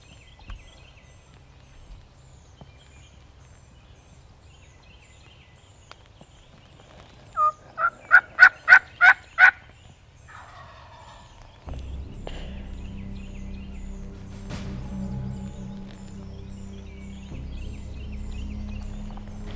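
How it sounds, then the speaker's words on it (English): A wild turkey tom, close by behind a small ridge on a golf course, lets out one loud rapid gobble of about six pulses after a quiet stretch, then a low steady rumble takes over. "He's gobbling hard and he is coming in fast."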